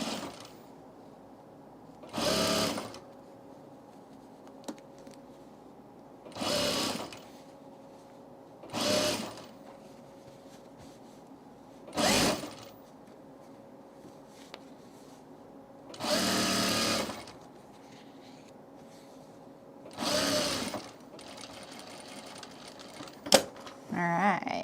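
Sewing machine stitching binding onto a fabric tool case, running in seven short bursts of a few seconds each, separated by pauses filled with a steady low hum and faint handling sounds.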